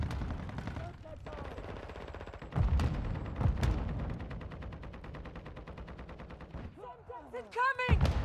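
Gunfire in Call of Duty: Modern Warfare II, a rapid automatic burst rattling steadily at moderate distance, with scattered heavier shots and game voice callouts between volleys.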